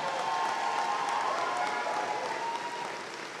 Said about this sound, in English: Can we give them a hand, a round of applause for completing?